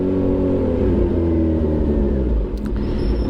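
A Kawasaki ZH2 motorcycle engine rumbles loudly and steadily close by, its deep throb rising slightly as it revs, with a brief faint click near the end.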